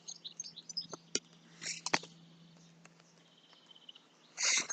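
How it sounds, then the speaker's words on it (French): Small birds chirp outdoors in short, scattered high tweets, faint to moderate, with a steady low hum beneath and a louder burst of chatter near the end. "on voit les beaux petits oiseaux et on les entend"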